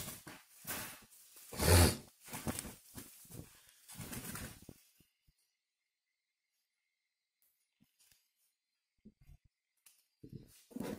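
A caged spotted dove coos in a short series of low, rhythmic calls close by over the first few seconds, followed by a long quiet gap and a few faint sounds near the end.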